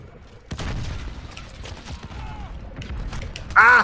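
Gunfire in Call of Duty Modern Warfare, a burst of sharp shots starting abruptly and continuing as scattered cracks and rattles, with a louder blast near the end, close and fairly loud.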